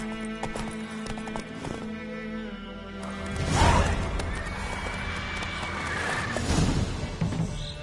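The horse Roach in a video game, with a run of hoof clip-clops followed by a loud, close neigh and further hoofbeats under faint game ambience.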